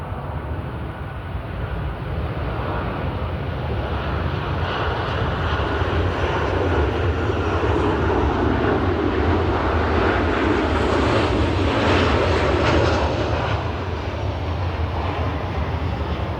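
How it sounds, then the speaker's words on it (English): Loud airplane flying overhead, a broad continuous engine roar that swells toward the middle and fades slightly, filling the whole stretch with no talking. "this airplane about to go by"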